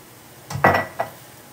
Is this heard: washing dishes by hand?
yes